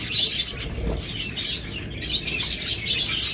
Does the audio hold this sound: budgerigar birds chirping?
yes